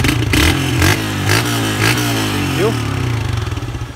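A motorcycle engine catches and settles into a loud, lumpy idle, with a few throttle blips and a steady rapid putter at the end, while someone speaks briefly nearby.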